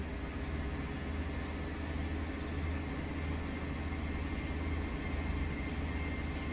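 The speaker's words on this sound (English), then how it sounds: "go to the side of our train and hear the motors" Electric train motors in Train Simulator Classic droning at a steady idle beside the train, a constant low hum with faint high whine and no talk.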